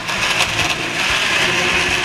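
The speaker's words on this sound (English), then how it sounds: "Now let's blend it up." A blender whirs loudly and continuously up close as it mixes a green detox protein shake with ice and water, a dense steady roar with no voices.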